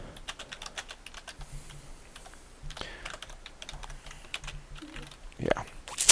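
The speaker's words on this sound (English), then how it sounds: "Don't know what I was thinking typing all this out." Keys clatter on a computer keyboard during a programming session, a quiet, uneven stream of sharp taps with short pauses and a faint low hum underneath, ending in a louder burst.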